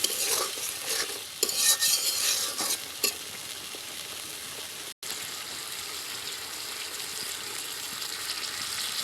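Raw banana curry sizzles in a pan as a spoon scrapes and stirs through it, with sharp clinks in the first few seconds, followed by a steady frying hiss after a brief dropout.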